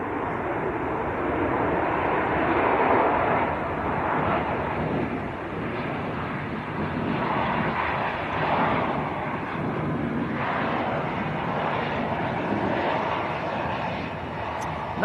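A plane at Leeds Bradford Airport taxiing on a dry runway and turning onto taxiway Delta gives a steady, loud engine roar. The broad rumble holds continuously for the whole stretch with slight swells and no talk.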